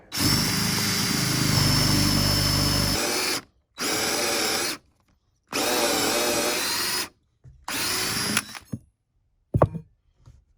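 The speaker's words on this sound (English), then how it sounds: "That was a lot of drilling." A power drill whines loudly in long sustained runs through a wall for Ethernet cable holes, stopping and restarting several times, ending with a few short bursts.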